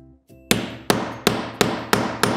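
Six sharp, evenly spaced hammer blows ring out alone and close, setting metal grommets into fabric for a lace-up dress back.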